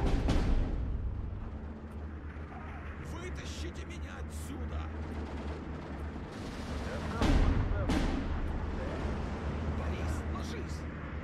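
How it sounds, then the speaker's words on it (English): Bombers drop bombs in the WW2 strategy game Steel Division 2, a long rumbling roar of explosions building and rolling on, with a heavier blast partway through while someone talks. "Big old bombs coming down."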